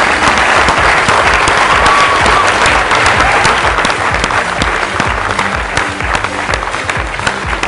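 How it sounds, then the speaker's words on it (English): Loud, dense audience applause at the Appcelerator Codestrong 2012 developer conference, sustained evenly with no speech. "So please join us with a round of applause for our mobile innovators."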